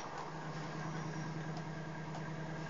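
A GTA 5 car engine idles at a standstill, a steady, low hum continuous at a moderate level, with a faint mechanical whine on top and no voices.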